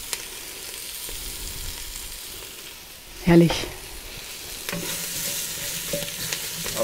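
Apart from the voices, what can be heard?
onions and sugar searing in a Dutch oven for goulash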